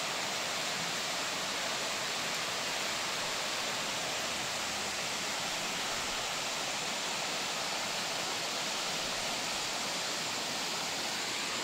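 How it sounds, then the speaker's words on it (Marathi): A waterfall pours steadily, a broad continuous rushing roar of falling water heard close and unvarying, with no voices over it. "हे बघा, फक्त पाणी येते."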